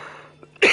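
A single harsh human cough bursts out loud at the end after a near-silent moment, over faint background music from a medieval strategy game.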